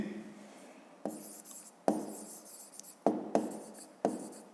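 Pen or chalk scratches by hand in short bursts, each stroke starting with a sharp tap and trailing off, repeated about five times in an uneven rhythm, close and clear.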